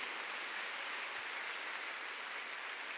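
A Korean congregation at a Wednesday service claps together in a steady, even wash of applause, faint and distant, continuing without a break and with no voices heard.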